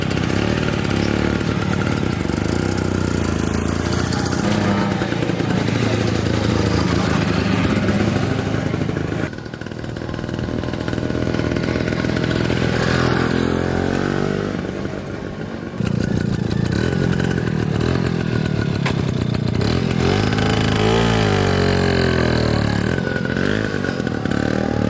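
A 1951 Turner Bi-Van and a Yamaha FS1-E motorcycle run together, their small engines idling with a steady, loud clatter and brief blips of revving. No one speaks over them.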